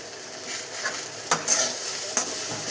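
Chopped onion sizzling in hot oil in a pan while making pirandai thuvaiyal, with a steady soft fry and a few sharp scraping stirs of a spoon against the pan.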